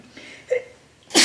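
A single person sneezes once, a sharp, fairly loud burst at the very end, preceded by faint, soft breathy vocal sounds.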